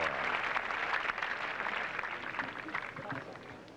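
Golf gallery at the 18th hole of the 1988 Byron Nelson Classic applauding, a steady broad wash of clapping that fades slightly toward the end.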